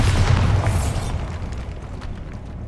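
A Bombarda blasting spell goes off in Hogwarts Legacy, one loud booming explosion that fades into a rumbling tail, heard alone.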